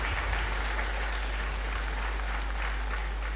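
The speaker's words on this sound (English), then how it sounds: "Another round of applause for him, please" Steady applause fills a ceremony hall at a university congregation ceremony, honoring a speaker after his address; dense continuous clapping at even loudness throughout.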